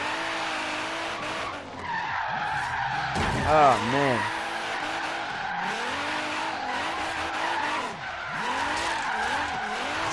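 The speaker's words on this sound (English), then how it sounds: "Let's see if it'll drift, man." Tyre skid and drifting from a slammed JDM Nissan 240SX in Forza Horizon 3, a steady engine drone with screeching, wavering tyre squeal throughout and a short shout partway through.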